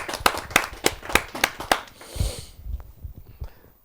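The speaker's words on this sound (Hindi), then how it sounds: "आमंत्रित करता हूँ आप सबकी जोरदार तालियों से" A short burst of sharp, evenly spaced hand claps from an audience at a Hindi poetry gathering (kavi sammelan), about eight, then a brief scuffle and fading quiet.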